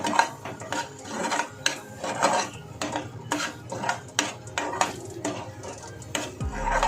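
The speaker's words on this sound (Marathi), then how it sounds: "मसाले वाटण्यामध्ये चांगले छान मिक्स करून घेऊया" A utensil stirs spices into a thick masala paste in a metal pan, giving rapid repeated scraping and clinking strokes with a steady rhythm, close and clear with no voices.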